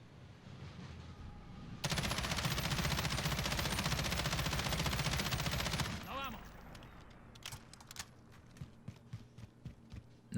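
An M13 rifle in Call of Duty Modern Warfare fires one long, steady full-auto burst of about four seconds, followed by tinkling spent casings and scattered small clicks.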